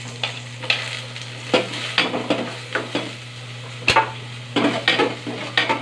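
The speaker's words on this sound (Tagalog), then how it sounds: "igisa na po natin ang bawang, sibuyas," Garlic and onion being sautéed in a pan, with irregular scraping and stirring knocks of a utensil against the cookware over a low steady hum, one sharp clack standing out midway.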